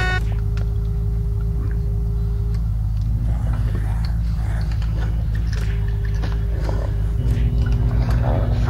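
A car engine hums and rumbles steadily while driving in the video game Unturned, a loud continuous drone with shifting pitch.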